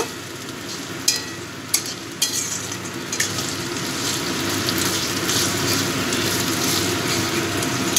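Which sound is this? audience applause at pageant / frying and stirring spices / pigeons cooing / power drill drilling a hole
frying and stirring spices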